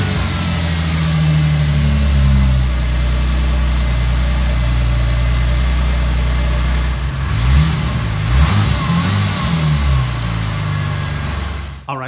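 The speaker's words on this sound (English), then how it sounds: "Let's go ahead and see if she fires up and runs on all cylinders." A 2004 Ford Mustang V6 with a new air filter, spark plugs and wires idles loudly and steadily up close, its low engine drone shifting and wavering around the middle before settling back to an even idle, with no talking.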